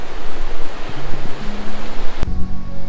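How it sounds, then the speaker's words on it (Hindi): Waterfall pouring into a pool at the Pir Ghaib tourist site, a loud continuous rushing wash of water, with a sharp knock partway through. "ये ऊपर से वाटरफॉल पानी सारा नीचे गिर रहा है"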